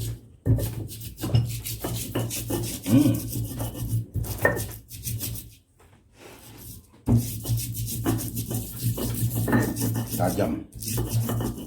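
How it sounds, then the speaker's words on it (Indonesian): Indonesian rendang spices being ground finely by hand for beef rendang, giving repeated rubbing, scraping strokes in uneven bursts with a short pause midway, fairly close and moderately loud over a steady low hum. "Saya harus giling halus dulu."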